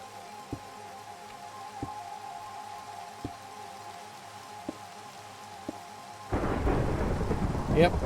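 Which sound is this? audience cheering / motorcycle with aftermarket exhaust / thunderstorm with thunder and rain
thunderstorm with thunder and rain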